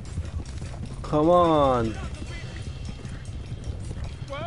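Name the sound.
horse hooves galloping in the video game Red Dead Redemption 2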